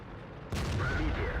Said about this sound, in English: We put a good shot into him on the move.